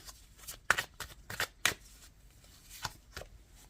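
Tarot cards being drawn and handled from a deck, giving a series of short papery riffles and snaps in uneven bursts, close and moderately loud, with no talking.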